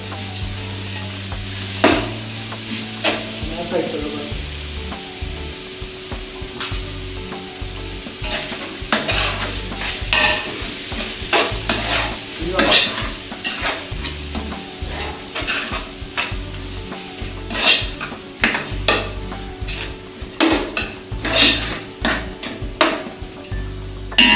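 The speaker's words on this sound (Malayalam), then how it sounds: "ഇളക്കാം." A spoon stirs fish biryani in a pan in a small bachelor-room kitchen. Repeated metallic scrapes and clinks ring out over a steady background sizzle, and no one speaks.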